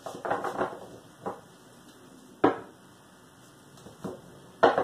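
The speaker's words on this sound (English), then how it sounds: "3 more shuffles here." Crisp riffling bursts of a card deck being shuffled, several separate shuffles spaced apart with quiet pauses between them.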